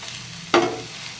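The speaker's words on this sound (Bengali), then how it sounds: "নাড়াচাড়া করে নামায়ে নেব" Fried bori and bottle gourd are stirred in a frying pan over a steady sizzle, with one sharp scrape of the spatula near the middle, close and without talk.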